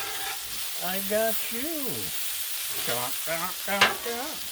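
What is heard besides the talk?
spinach and tomatoes cooking on a Blackstone griddle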